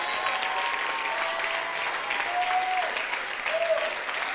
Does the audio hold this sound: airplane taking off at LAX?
no